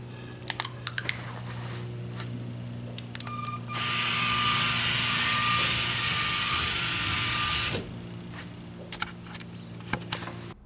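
LEGO Spike Prime delivery cart motors drive with a whirring hum while the gyro correction makes one motor wiggle back and forth. A loud, steady whirring burst dominates the middle, with clicky taps before and after.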